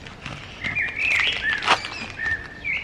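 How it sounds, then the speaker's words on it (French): Small birds sing outdoors, with a series of bright, high chirps and whistled trills at moderate distance that repeat across the moment. "Les petits oiseaux qui chantent."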